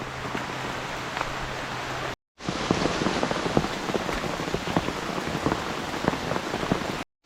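Steady monsoon rain falls heavily on a surface on a Konkan hillside, a continuous dense patter with brief cuts in the sound.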